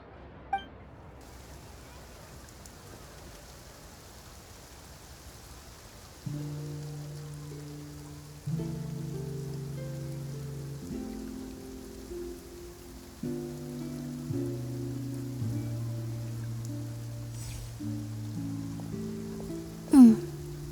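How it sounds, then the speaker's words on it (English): Rain falls in Genshin Impact's Fontaine as a soft, steady patter, faint at first and joined later by tonal game music and a few clinking drops. "It often rains on days where there are trials being held in the Opera House"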